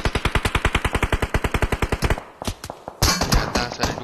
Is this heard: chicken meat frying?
no